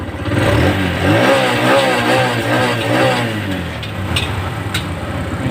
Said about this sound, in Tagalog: umaandar na yung ating GS Mola